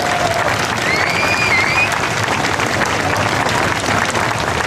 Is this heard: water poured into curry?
no